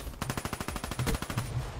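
Rapid hip-fire burst from an automatic weapon in Black Ops 3 on PC: a fast, steady stream of about a dozen close, punchy shots lasting under two seconds.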